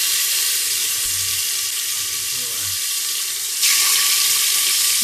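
Onion paste sizzling with garam masala in a hot pan, a steady hissing fry throughout that grows louder and brighter toward the end, with faint low clinks of cooking underneath.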